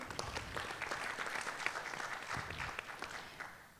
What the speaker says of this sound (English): And now I want you to give yourselves another round of applause for being here.